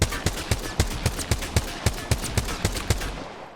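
Rapid automatic gunfire from a weapon shot against a wall in the Apex Legends firing range, about fifteen sharp evenly spaced shots in a steady burst, loud and close with no talking.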